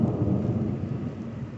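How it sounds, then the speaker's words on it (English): Thunder rolls through woods in Chenango County, New York during a storm, a heavy, continuous low rumble with the hiss of rain underneath and no voices. "we got thunder happening."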